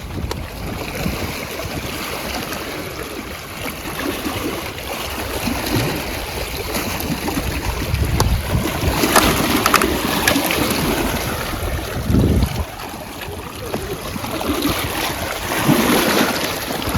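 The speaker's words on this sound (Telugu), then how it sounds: "This is a waterfall." A waterfall pours over rocks in a continuous broad rush of water that swells somewhat louder midway, heard alone without voices.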